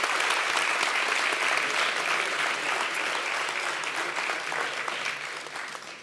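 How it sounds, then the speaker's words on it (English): Crowd at the ARIA 2025 awards ceremony gives a sustained, even wash of applause that fills the room, holding steady before easing slightly toward the end. "A round of applause."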